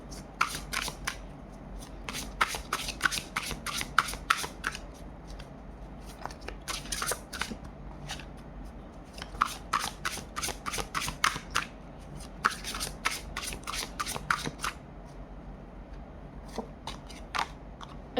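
Tarot cards shuffled by hand during a zodiac reading, heard as repeated bursts of quick papery riffling and flicking, close and fairly soft, with short pauses between rounds and no talk.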